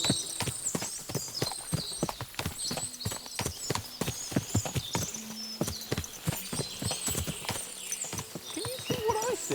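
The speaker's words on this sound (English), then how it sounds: "What a lot of horses!" Many horses clip-clop in a steady, overlapping rhythm of hooves in Kingdom Come Deliverance II, close and continuous, with occasional snorts and whinnies and faint chirping in the background.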